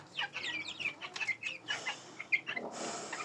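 Young hens cluck and chirp softly in a quick irregular series of short calls, close but fairly quiet, with no talking.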